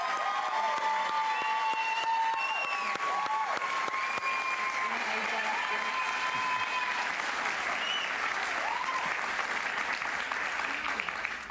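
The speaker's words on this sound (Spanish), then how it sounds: "Un aplauso para ella, por favor." Steady audience applause greets María Corina Machado at a gathering in her honour, loud and continuous with crowd cheers and whistles mixed in, no talk over it.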